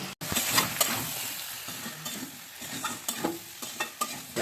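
A spice paste of ground cumin, ginger and mustard is stir-fried with vegetables in a pan, with close sizzling and repeated scraping stirs of the spatula at an uneven rhythm.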